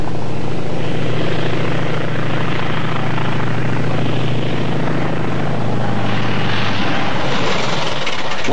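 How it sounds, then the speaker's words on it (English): A mail plane flies over the forested British Columbia coast, its propeller engine a loud, steady droning hum that holds close and continuous throughout, with a slight swell near the end and no voices. "Once a week, a plane delivers the mail."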